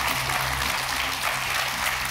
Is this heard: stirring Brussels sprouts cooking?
no